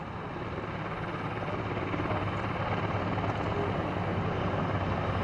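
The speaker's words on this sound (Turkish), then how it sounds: "arama kurtarma helikopteri bölgeyi terk etmektedir" A search and rescue helicopter at a mountain rescue exercise, its rotor and engine roaring steadily and loudly throughout, close by with no talking.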